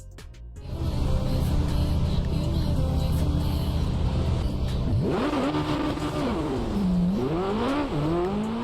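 A licensed car in the Racing Master mobile racing game holds a steady loud engine drone, then revs up and down in rising and falling sweeps, with faint tire squeal, and no talk over it.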